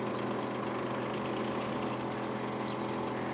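A dump truck's engine idles at a Lviv composting station where felled trees are hauled, a steady low rumble with a faint knocking texture running throughout at moderate distance.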